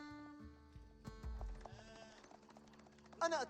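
Sheep bleat in the Age of Empires 4 strategy game, a short wavering bleat amid soft game effects and a brief tone, with a louder bleat near the end, faint overall.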